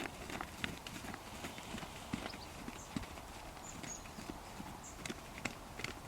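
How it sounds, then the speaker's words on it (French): A horse trots under a rider during lateral movement schooling, rhythmic clip-clop hoofbeats continuing steadily at moderate distance, fairly quiet against a background hiss. "je l'installe au trot. Je mets un petit peu d'énergie dans son trot"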